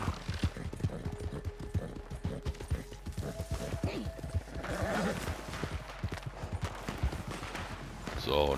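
Horse hooves clip-clop at a steady trotting rhythm in Red Dead Redemption 2 Online, close and continuous under someone talking, with a brief swell of other game noise midway.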